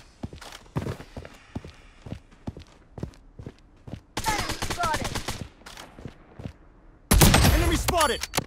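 Gunfire in the video game Blood Strike: sharp single shots and short bursts at first, then two dense, loud volleys of rapid automatic fire, with a voice speaking in between.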